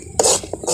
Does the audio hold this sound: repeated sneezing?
no